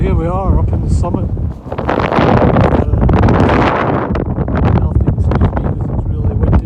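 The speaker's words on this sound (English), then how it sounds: "It's really windy up here." Strong wind buffets the microphone on a hill summit in Galloway, a loud roaring gust that rises and stays heavy, with a voice speaking briefly at the start.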